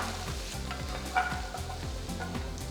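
Chopped garlic and ginger sizzling in oil in a wide pan, a steady close frying hiss with a faint stirring clink partway through, no talking.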